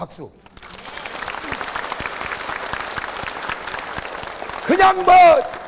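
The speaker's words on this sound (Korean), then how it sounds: "아이고 박수" A church congregation claps through a revival sermon, a steady wash of applause that thins out toward the end as a voice breaks in loudly over it.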